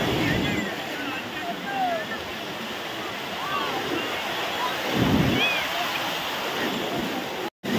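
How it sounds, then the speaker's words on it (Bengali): Large sea waves break on the beach at Puri in a continuous surf roar that swells as a breaker crashes near the middle, with faint voices in the background. "ঢেউ, দেখো ঢেউ, কি বিরাট বিরাট ঢেউ।"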